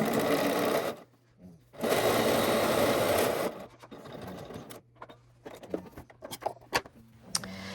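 A sewing machine runs in two sustained loud bursts, top stitching about 1/16 inch along a folded fabric edge for a flat fell seam, then quieter handling clicks and rustles follow.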